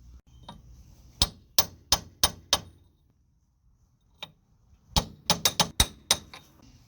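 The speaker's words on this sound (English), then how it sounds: "I do recommend to tap on them because they are really rusty" Hammer tapping on rusty bolts of a Ford Ranger axle during ball joint work: a run of five sharp metallic taps, a pause with one faint knock, then a quicker cluster of about eight close, loud strikes.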